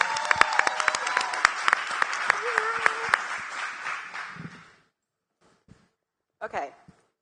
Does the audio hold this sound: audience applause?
yes